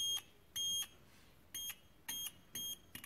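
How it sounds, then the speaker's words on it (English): A multimeter checking the earth connection on a Sonoff WiFi switch install sounds five short, high, steady continuity beeps in an uneven rhythm, close and clear with no talking. "we'll just double check with the multimeter that we have a good earth"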